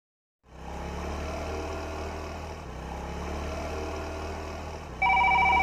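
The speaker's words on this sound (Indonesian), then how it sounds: "Aduh, siapa lagi nih yang nelpon gua?" A telephone rings in an animated film, a sharp electronic trill that cuts in suddenly near the end over a steady idling motorbike engine hum.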